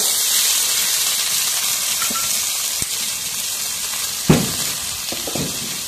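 Steady sizzling of green beans frying in a hot pan with chillies and onions, with a few soft clinks and knocks from a utensil over the continuous hiss.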